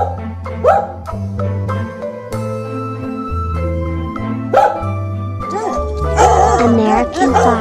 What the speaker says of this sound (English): American Eskimo Dog.